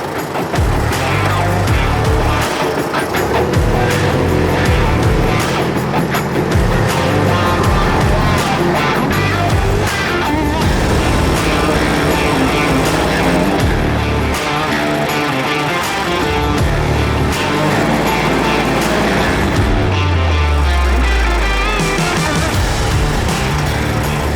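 A Japanese Kubota KB-20 mini tractor runs with its PTO shaft turning, giving a loud, close, steady mechanical drone throughout, with a falling tone near the end.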